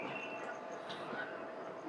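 Kakinada Town to SMVT Bengaluru express train rolling out of Pakala Junction, a steady broadband rumble of wheels and carriage heard from inside, with a faint high squeal.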